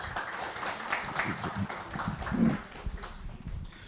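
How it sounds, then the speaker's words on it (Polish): Modest applause from a seated audience after a talk on agriculture 4.0: light, uneven clapping at a fairly quiet level, swelling briefly midway, with faint voices mixed in. "Wielkie brawa dla panów"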